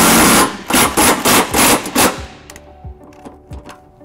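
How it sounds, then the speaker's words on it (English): A ratchet with an 11/16 socket tightens the trailer hitch bolts on a 2013-2023 Nissan Sentra. It sounds as a quick run of five loud, rhythmic ratcheting bursts, then fainter scattered clicks and taps. "using a 11/16 socket, we'll go ahead and tighten this up and draw the hitch up to the tow loop."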